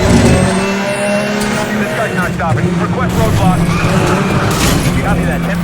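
A car accelerating in the racing game Need for Speed: The Run, engine droning steadily and close throughout, with someone talking over it.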